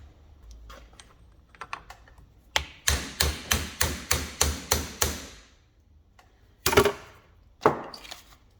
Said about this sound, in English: Let's get a socket the right size to just hit over that.